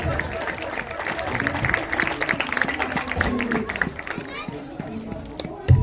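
A church congregation at a Sunday service applauds loudly and steadily, with children's voices and crowd chatter mixed into the clapping.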